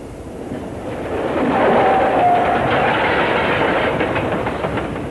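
British Rail freight train passing close by, a loud rising rumble with rhythmic clickety-clack of wagons over the rails and a faint squeal, alone without talk.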